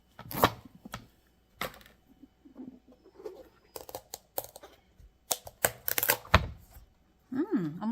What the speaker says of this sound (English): I'm going to rinse off my knife and cut the other on for the official pie pumpkin